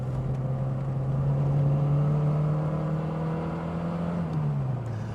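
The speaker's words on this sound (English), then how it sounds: "The beauty of the engine is you don't have to rev it too hard, but for this, down into second." A car engine drones steadily at moderate revs on a road with tight hairpins, then its pitch drops near the end as the driver shifts down into second gear, with no talking.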